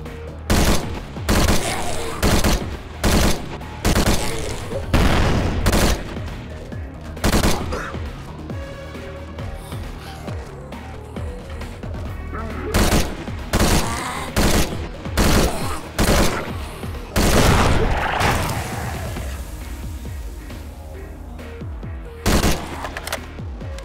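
Dense gunfire from the zombie-shooter mobile FPS Zombie State, RogueLike, set in an industrial park: rapid bursts of shots and booms stacked over a layered game soundtrack, loud and nearly continuous for the whole stretch.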